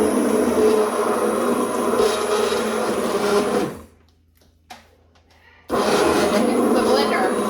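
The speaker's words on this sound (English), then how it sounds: "The blender." A kitchen blender whirs loudly, blending a thick loaded potato soup, with a steady grinding roar that cuts out for a couple of seconds, then starts again at full strength.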